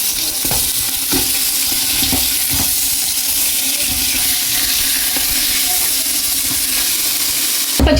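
Washed chicken pieces dropped into hot oil with onions in a cooking pot, giving a loud, steady close sizzle and frying hiss throughout, with occasional clinks of a stirring spoon against the vessel.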